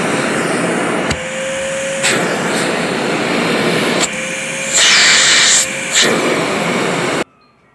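A Vevor 4-gallon wet and dry shop vacuum runs with a steady, loud motor whine. Its pitch and hiss shift abruptly several times as suction is blocked and opened, and the motor cuts off at the end.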